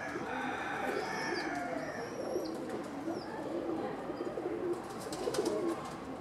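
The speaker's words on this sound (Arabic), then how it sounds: "انزل الطير الأزرق العراقي" An Iraqi blue pigeon in Algeria gives low, soft, repeated cooing close by, with faint chirps from other birds in the background.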